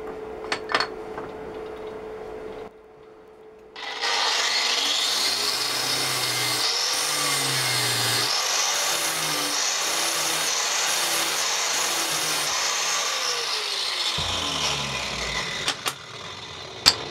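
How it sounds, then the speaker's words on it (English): A threaded depth stop rod scrapes along its housing on a restored Atlas 74 pillar drill, giving a steady, fairly loud grinding rasp with a rhythmic pulsing undertone that runs about ten seconds and then tapers off, with no talk. "You can actually hear that as we move along. That's scraping a bit up towards there"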